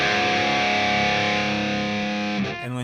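An electric guitar chord rings through a NUX amp set for harsh high-mid distortion, sustaining thick and buzzy before a brief change in tone at the end.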